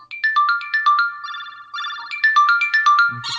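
A bright electronic ringtone from a OnePlus X phone plays a quick repeating melodic pattern of chirpy notes, close and clear, with no talking.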